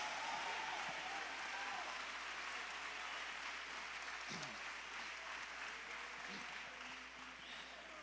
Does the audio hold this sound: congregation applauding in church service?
yes